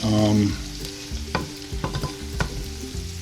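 White wine and clam sauce simmers in a pan for linguine, a close bubbling sizzle with a loud frying hiss at first, then softer crackles and a few clinks from stirring, with no talking.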